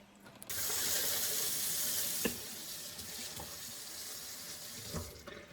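Water runs steadily from a faucet into a sink while a knife is washed with warm water and a sponge, with a few light clinks and knocks against the basin.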